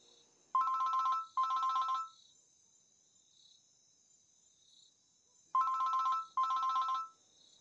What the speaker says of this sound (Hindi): अब फोन तो उठा लो